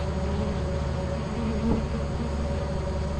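Bees buzz in the video game Lethal Company with a continuous, even droning hum at moderate loudness that holds steady without pauses, and nobody speaks over it.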